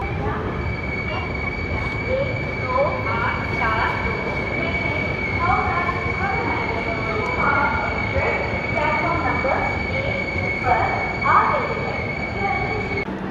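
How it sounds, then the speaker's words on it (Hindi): Coromandel Express pulling into Ongole railway station, a steady rumbling train noise with constant high-pitched wheel squeal and intermittent voices of people on the platform or in the coach. "तो दोस्तों आ चुके हैं अपन अपनी ट्रेन का पहला स्टॉप, पहला हॉल्ट में, जो कि है ओंगोल रेलवे स्टेशन।"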